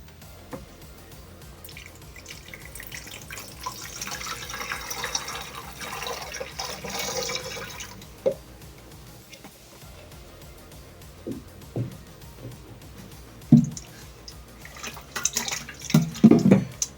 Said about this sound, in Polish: I teraz zalewamy nasz środek w proporcjach pół wody, pół octu do baku.